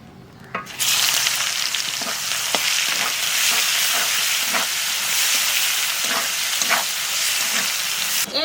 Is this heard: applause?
no